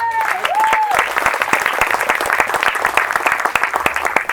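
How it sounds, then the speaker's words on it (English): A crowd bursts into sustained, dense applause, many hands clapping steadily and loudly after a brief tone at the start. "can I please have you give them a round of applause?"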